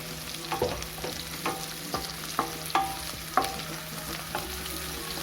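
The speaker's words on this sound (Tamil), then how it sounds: "கருவேப்பிலை எல்லாம் போட்டு சின்ன வெங்காயம் போட்டு நல்லா வதக்கிக்கலாம்." Shallots and curry leaves sauté in oil in a pan for a fish curry, with a soft steady sizzle broken by a string of sharp scrapes and clinks as a spoon stirs them at a regular pace, close and fairly quiet.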